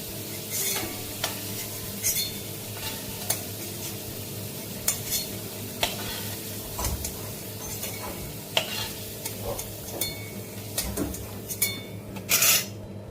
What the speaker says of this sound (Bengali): ওই তেলের মধ্যেই সেদ্ধ করা ডিমগুলো ভেজে